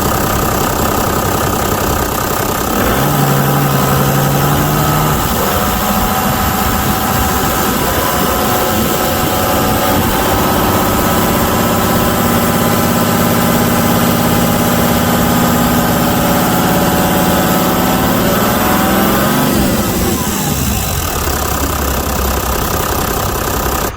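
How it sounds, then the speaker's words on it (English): A Toyota Land Cruiser engine idles steadily for the whole stretch during a fuel filter housing test, a constant low mechanical drone with a brief change in pitch near the start and again toward the end. "the engine will still run with the old fuel filter"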